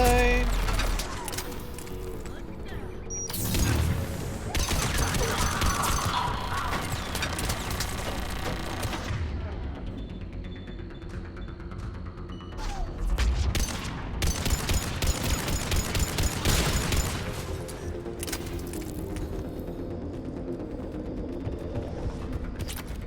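Rifle fire in the Mass Effect 3 video game comes in several loud bursts of rapid shots separated by quieter stretches of mechanical clanks, creaks and ambient game noise, with no voices.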